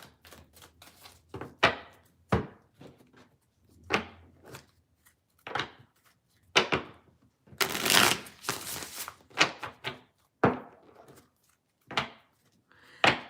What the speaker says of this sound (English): Do a bit of pre-shuffle.